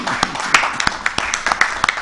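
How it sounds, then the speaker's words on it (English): A round of applause from the audience at an insurance company's annual general meeting, with scattered individual claps rather than a dense roar, steady over two seconds. "Please, let's give a round of applause to this very people."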